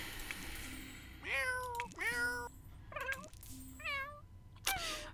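A cat in The Sims 4 meows several times in a row, clear close cries with rising and falling pitch, alone with no talk over them.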